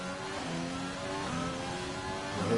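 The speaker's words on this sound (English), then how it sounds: "I heard his engine make some funny noises there, thought it was going to backfire" Rally race car engine in a sim racing league round at Singapore, revving and accelerating at mid distance with an uneven, sputtering tone and a rising surge near the end, no voices.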